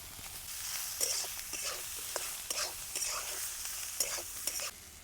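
Chopped ivy gourd (tondli) with salt sautés in a pan over a low flame, a soft continuous sizzle broken by faint scraping stirs of the spatula.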